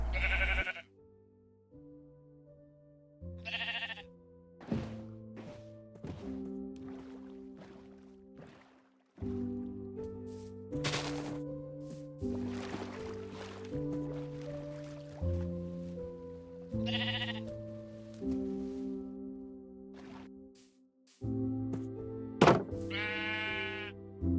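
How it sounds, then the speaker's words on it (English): Blocky Minecraft sheep bleat several times in the game, the short nasal bleats standing out over a steady melodic background music track with soft thunks, no talking. "lucky me, there's a sheep right here"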